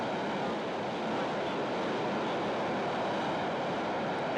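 SpaceX rocket engines igniting and ramping up at launch on a cargo mission to the International Space Station: a steady, dense broadband roar, distant and even throughout, with no voices over it.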